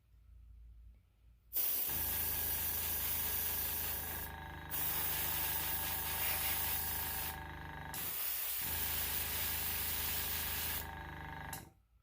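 Spray paint hisses steadily onto a model Cotton Belt 40-foot double door boxcar, a loud continuous aerosol spray broken by two short pauses before stopping.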